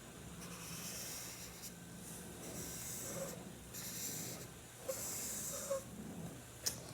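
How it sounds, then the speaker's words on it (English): A vacuum cleaner runs somewhere in the background as a faint, steady broadband whoosh with a low hum underneath, broken by a few soft knocks and scrapes nearby. "so ignore the vacuum sound."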